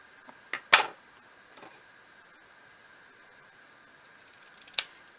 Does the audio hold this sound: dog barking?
no